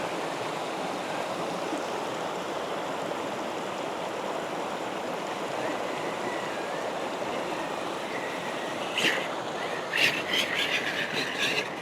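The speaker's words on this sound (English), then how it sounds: "Let's see if I can find a way across the water." An RC crawler drives across stream water outdoors, with steady rushing water and splashing that runs the whole time, and a few sharper sputtering bursts near the end, close and continuous.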